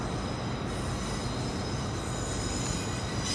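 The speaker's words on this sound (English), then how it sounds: "this is a Great Eastern Railway service to Paignton now coming back in" Passenger train, a unit numbered 150-266 on a Great Eastern Railway service to Paignton, rolls into Exeter St Davids station with a steady, close rumble and faint wheel squeal throughout, no voices.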